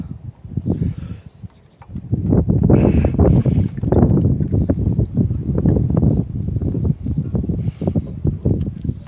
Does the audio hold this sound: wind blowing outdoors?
yes